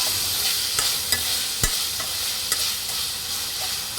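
Tomatoes frying in a pan for a Rayalaseema puffed-rice upma are stirred with a spoon, giving a continuous sizzle broken by several sharp scrapes and taps against the pan, heard up close with no talking.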